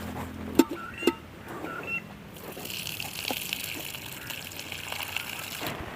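Water gushing and trickling as it is drained off washed dried anchovies, preceded by a couple of sharp clunks, then a steady pouring hiss near the mic.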